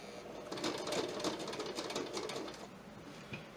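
A sewing machine back stitching through thick layers of quilt binding, running in a rapid, close, rhythmic burst of needle strokes for a few seconds before stopping and giving a last short stitch.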